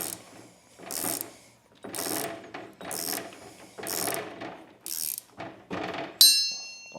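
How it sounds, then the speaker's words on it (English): A ratchet wrench clicks in six evenly spaced bursts while driving a bolt into a plastic transmission with a pulley in the way, each burst a quick run of close, crisp pawl clicks, ending in a brighter metallic clink. "I can use the ratchet wrench to drive it in the rest of the way"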